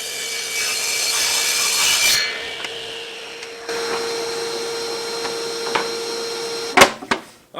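A 3.5 inch wide wood strip is ripped on a saw, a loud close cutting whine that ends abruptly, followed by the lingering hum of the machine spinning down and a few sharp knocks at the end.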